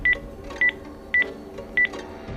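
Telephone keypad dialing tones as someone calls an ambulance: four short, evenly spaced DTMF beeps, loud and clear over a faint background.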